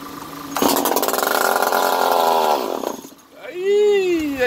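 A Stihl MS 290 chainsaw engine roars steadily at close range for a few seconds, then cuts out, followed by a person speaking with rising, expressive intonation.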